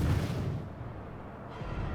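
Naval guns of a French tier-2 destroyer fire in World of Warships: a deep, booming blast that rolls off into low rumble, heard up close with no speech.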